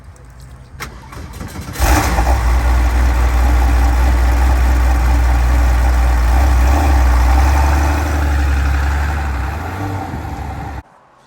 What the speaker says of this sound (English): So we're gonna fire up this 993 RS Clubsport and take it for a ride.